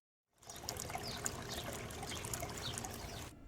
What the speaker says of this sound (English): then cascades down through the planters to the fourth planter where it exits and drains back to the fish tank